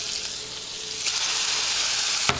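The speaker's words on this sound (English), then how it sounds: "I come over here and kind of slopped up my tomatoes a little bit more to where they would fry up nicely" Tomatoes frying in a pan, a steady, close hiss and sizzle with a brief louder crackle near the end, no talk.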